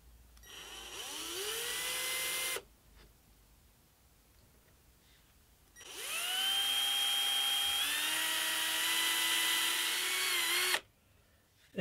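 A power drill whines close up in two long runs through a clamped arc-cutting jig, its pitch climbing as it spins up, separated by a quiet pause.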